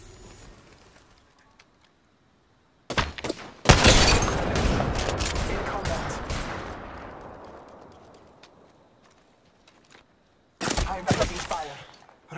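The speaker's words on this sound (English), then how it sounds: "The enemies are shooting at me." Enemy gunfire in Apex Legends erupts in a loud burst of rapid shots that trails off into a fading roar, then a second burst near the end, close and harsh.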